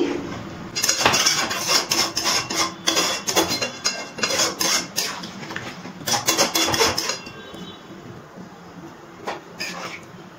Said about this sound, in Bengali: এবার সবকিছু একটু নাড়াচাড়া করে মিশিয়ে নিচ্ছি